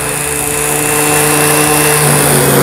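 A random orbital sander runs continuously with a loud, steady whirring motor whine and a faint buzzing hum, close to the microphone.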